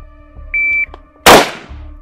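A single electronic shooting-timer beep rings out during Spanish military firearms training in Poland, followed about half a second later by a sharp, loud gunshot that decays quickly against faint steady background hum.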